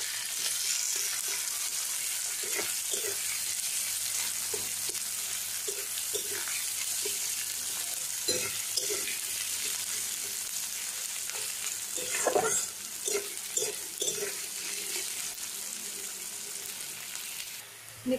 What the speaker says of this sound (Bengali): পেঁয়াজটাকে আমি 2-3 মিনিটের জন্য ফ্রাই করে নেব।